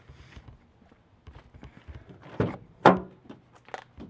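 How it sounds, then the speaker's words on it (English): The double side doors of a van unlatch and swing open, producing a series of clunks and metallic thunks, with a loud latch clack in the middle, near and without talking. "This particular one has this double open door like this, which I actually greatly prefer over the sliding door."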